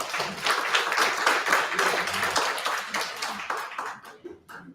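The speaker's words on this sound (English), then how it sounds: "Brother Redhead, a round of applause." A town hall meeting crowd in New York applauds as a speaker is called up, a steady wash of clapping from many hands that thins toward the end.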